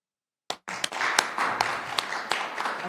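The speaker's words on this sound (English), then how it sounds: "Lots of applause tonight" After a sudden start, a small audience at a city council meeting claps, with distinct individual hand claps over a thin, steady patter that carries on to the end.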